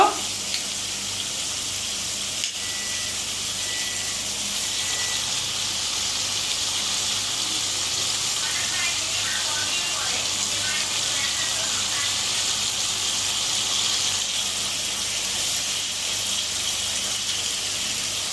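Tomatoes dropped into spice paste frying in a pan for a small-fish curry, giving a steady, hissing sizzle that holds throughout, with a voice talking over it.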